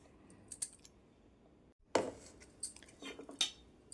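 Ivy gourd and okra cut thin with a knife for frying make sparse, close clicks and taps against a board, with a silent pause before a denser run of cuts.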